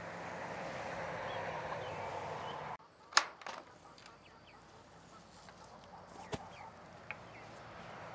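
Chickens kept on pasture are heard briefly: a few soft clucks and honk-like calls come at low level after a steady outdoor rumble cuts off, with sharp knocks and a couple of clicks scattered around them.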